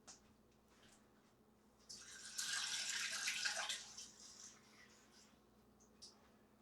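Water poured from a cup into a mixing bowl of garlic-flavored pasta dough for lasagna, a quiet splashing pour swelling for about two seconds in the middle of a calm kitchen, with a few faint clinks before and after.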